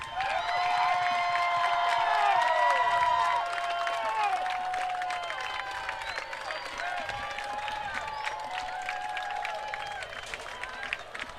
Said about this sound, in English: Let's hear a big cheer back home when they break through here.